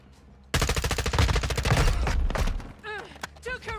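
Rapid M4A1 SOPMOD automatic gunfire in Modern Warfare 2 rattles loud and close in a dense burst of about two seconds, then trails off into scattered game sounds and brief voices.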